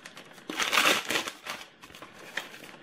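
Glossy sticker sheets handled and bent, giving close, crisp crinkling and crackling in several quick bursts, loudest near the start and then in smaller rustles, with no talk.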